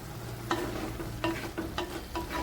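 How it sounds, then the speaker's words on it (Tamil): Chicken uppu kari gets stirred in a pan, giving several sharp scraping strokes over a low, steady sizzle, with no voices heard. "ஒரு தடவை திறந்து இடையில கிண்டி விட்டுக்குருவோம்."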